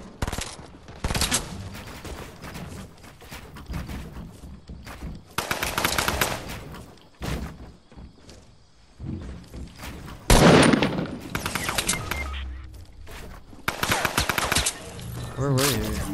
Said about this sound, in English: He's gonna start shooting.